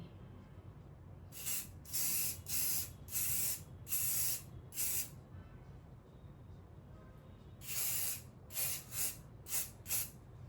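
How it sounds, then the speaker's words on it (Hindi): An aerosol spray can, its cap lost, releases a series of short hissing bursts in two clusters, about five quick sprays, a pause, then four more, close and loud over a low background hum. "थोड़ी सी स्प्रे करते हैं"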